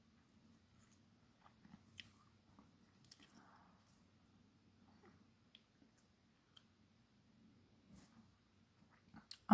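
Gum being chewed close to the microphone, with soft, quiet wet clicks and squishes arriving in scattered, irregular bursts over near silence.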